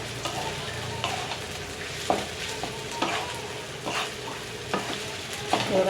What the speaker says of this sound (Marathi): छान याला मिक्स करून घ्या